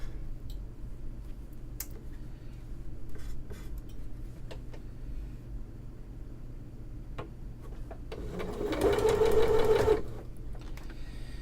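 A sewing machine stitches cotton quilt pieces for a Tree of Life puzzle mystery quilt, running in one short, steady burst near the end over a quiet room hum.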